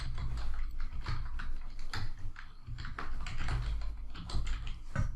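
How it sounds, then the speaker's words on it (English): Rapid typing on a computer keyboard, with dense, irregular key clacks running steadily and fairly close throughout, with no voices over it. "They simply type in the information"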